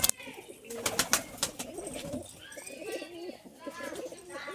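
Domestic loft pigeons cooing and fluttering right after release, a steady run of soft throaty coos and calls near the listener, with a few sharp wing-flap bursts at the start.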